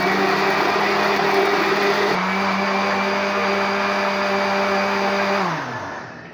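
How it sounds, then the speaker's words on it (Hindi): Electric blender whirring loudly at steady speed while making a strawberry milkshake, a constant motor drone that shifts pitch once, then winds down as it switches off. "अपने ब्लेंडर को ऑन करते हैं"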